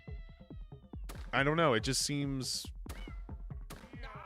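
Two cats meowing in a small indie jam video game, several drawn-out, rising and falling meows in quick succession, loud and close, with someone talking over and between them.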